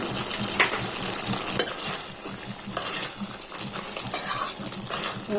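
Salt, chilli powder and coriander powder are stirred into chicken gravy frying in a pan, with scraping spoon strokes over a steady sizzle and occasional clinks of utensil against metal.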